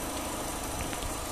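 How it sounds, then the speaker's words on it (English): Vauxhall Corsa 1.4 petrol automatic hatchback with 30,000 miles, idling steadily with a smooth, even low engine hum, close and constant throughout with no talk. "engine sound nice and smooth"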